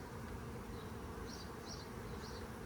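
Honeybees hum steadily during an open beehive inspection, a constant low buzz with a few brief higher whines drifting past near the microphone.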